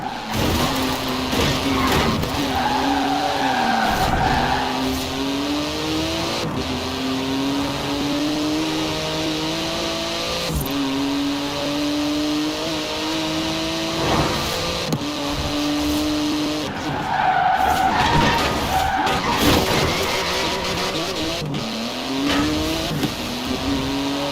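A Porsche 911 GT2 in Forza Horizon 4 drives through city traffic, its engine droning loudly and climbing in pitch through repeated gear changes, with a steady whine and road rumble throughout.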